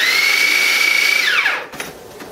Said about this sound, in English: Alright, let's grind them up.